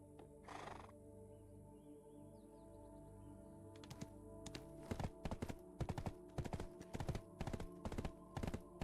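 Horse hooves clip-clopping in the Black Desert Online video game, starting after a quiet opening with a brief whoosh, then a rapid steady run of hoofbeats, close and clear.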